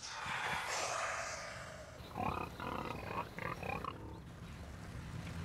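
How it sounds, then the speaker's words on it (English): Pigs grunting and snorting close by, a rough run of throaty grunts and breaths, first a raspy snuffle then choppy bursts. "Those pigs are still out there."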